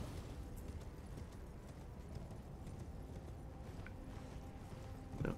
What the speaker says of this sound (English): Take off running through the magma on your horsey.